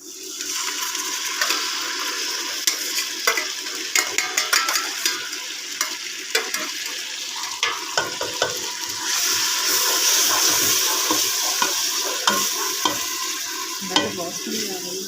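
Tomato, onion and coriander pounded in a mortar sizzle steadily in a pan for pav bhaji while a spoon stirs and scrapes through them, with frequent close clinks and scrapes over the continuous frying hiss.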